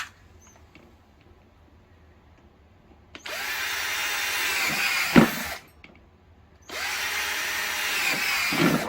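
Power drill boring holes into a plastic part for a homemade cyclone dust collector, two sustained whining bursts separated by a short pause, close and fairly loud with no talking.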